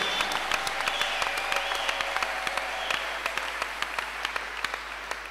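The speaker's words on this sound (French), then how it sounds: "Est-ce qu'on peut vraiment les acclamer très fort?" Loud, sustained applause from a church congregation at a French-language morning service, thick and continuous with crisp individual claps standing out throughout.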